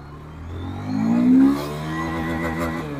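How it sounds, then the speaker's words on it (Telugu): A 2024 Hero Xtreme 160R 4V, a 160cc motorcycle, accelerates hard in third gear, its engine note rising in pitch and swelling loud, then settling into a steady high drone as the bike pulls. "థర్డ్ గేర్లో కూడా థ్రాటిల్ ఇవ్వగానే బైక్ అనేది లాక్కెళ్ళిపోతుంది"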